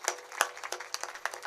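An audience at a kirtan performance claps for the young women cymbal players, a short spell of scattered, fairly faint handclaps with a few sharper individual claps.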